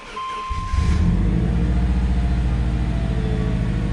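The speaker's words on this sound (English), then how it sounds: "Fires right up." A Subaru STI with about 212,000 miles on its original engine, cold after sitting a couple of weeks in a chilly shop, cranks and fires up, then settles into a steady, loud, rumbling idle close by.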